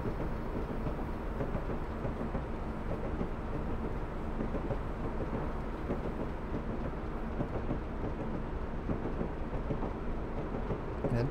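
A train running on the West Highland Line in Train Simulator, a steady, heavy rumble of wheels and engine rolling on without a break, loud and even throughout.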